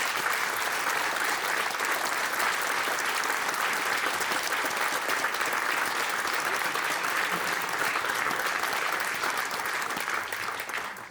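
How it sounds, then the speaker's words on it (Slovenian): Loud, sustained applause from a concert audience in Divača after a performance, a thick wash of many hands clapping steadily for over ten seconds. "Zato se mu še enkrat zahvalimo z enim velikim aplavzom."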